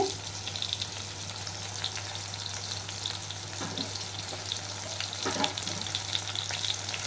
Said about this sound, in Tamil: வெங்காயமும் பூண்டும் வதங்கினே இருக்கு